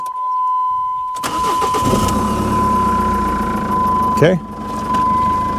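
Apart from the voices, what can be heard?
car engine cranking and starting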